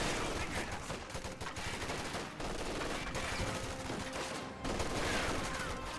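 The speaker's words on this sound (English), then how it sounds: "Another rifle grenade firing." Rifle grenades and gunfire in a Company of Heroes 2 battle, a dense, continuous roar of rapid shots and bursts, loud and close throughout with no clear gaps.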